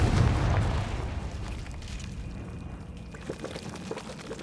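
Explosive spell blasts from the Bombarda and Confringo spells in the video game Hogwarts Legacy: a heavy booming burst at the start, then a rolling, rumbling roar that slowly settles into a crackling, debris-like wash.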